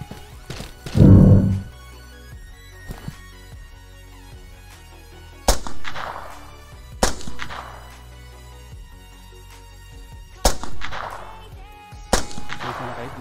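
Sniper rifle shots in the online shooter game OneTap: about five sharp, loud cracks spaced irregularly, each with a short booming tail, over a quiet, steady tonal game background.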